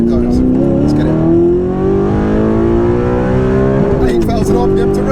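A tuned Audi R8 with a manual V8 revs hard under acceleration, its engine note climbing steadily toward redline, then dropping and rising again around a gear change, loud and close from inside the car.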